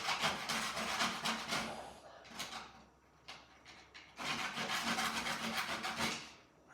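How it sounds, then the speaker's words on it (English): Bamboo cable stops for a bike frame sanded by hand, a rough rhythmic rasping in two long bursts separated by quieter scraping, close and alone. "just sand these so they start to look a bit nicer and the shape gets a bit better"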